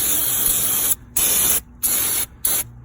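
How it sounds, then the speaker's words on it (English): Brake cleaner is sprayed onto fuel filter parts of a 2019 Freightliner 122SD with a DD13 engine: four loud, close hissing aerosol bursts, the first long and the rest shorter, separated by abrupt silent gaps. "I recommend spraying down with brake clean just to clean stuff"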